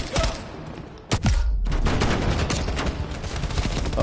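Rapid bursts of gunfire in Call of Duty Black Ops Cold War, loud repeated shots with a brief lull near the middle before firing resumes steadily to the end.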